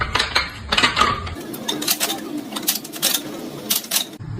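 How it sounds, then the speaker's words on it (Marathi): An oiled metal puri maker pressing balls of rice papad dough, making a run of close, bright clacks and metallic clinks in a busy, uneven rhythm. "माझ्याकडे पुरी मेकर आहे, ह्याला थोडंसं तेल लावलेलं आहे आणि हे प्रेस करून फक्त त्याच्या गोळ्या करते"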